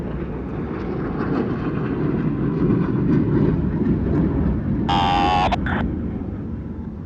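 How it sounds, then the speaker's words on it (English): Fixed-wing aircraft roaring past at an air show, a loud steady engine rumble filling the whole stretch with a brief higher whine partway through. "As each aircraft accelerates to 500 miles per hour, they will perform a half-Cuban 8 reversal turn."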